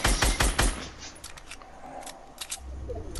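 Gunfire in Fortnite: a quick close burst of rapid shots opens, followed by sparser, fainter single cracks and shots scattered through the rest, with no voices heard.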